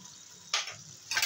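Khalla fish frying in a pan as a little water is poured in, giving two short bursts of hissing sizzle, near and fairly quiet, with no talk.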